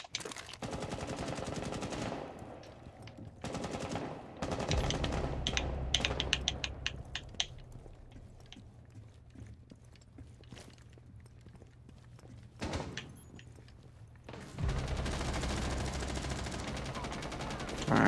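Automatic weapon fire in the tactical shooter Rainbow Six Siege: bursts of rapid gunshots and rattling mechanical clatter, loud and near, broken by quieter stretches and resuming in heavy volleys near the end.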